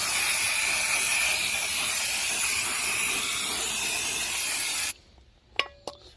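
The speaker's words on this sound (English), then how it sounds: "I love the smell of brake cleaner. It smells so good. Just get a quick blast off." Brake cleaner sprayed in a strong, close, steady hissing blast onto a car brake disc on a Citroen Berlingo 1.9D Mk1, lasting about five seconds before cutting off, followed by a few small clinks.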